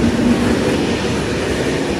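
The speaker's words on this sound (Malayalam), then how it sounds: "നമ്മുടെ പ്ലാറ്റ്ഫോമിലേക്ക് വേറൊരു ട്രെയിൻ വരുന്നത്" A goods train pulls in beside an Italian railway platform, producing a continuous heavy rolling rumble that stays steady and loud throughout the short stretch.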